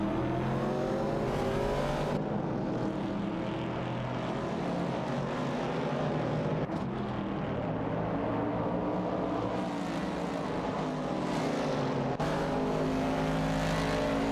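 A Ford Mustang Boss and a 1970 Pontiac Firebird race in a video game, their engines roaring loud and continuous with rising and falling pitch as gears shift, close and dense with no talking.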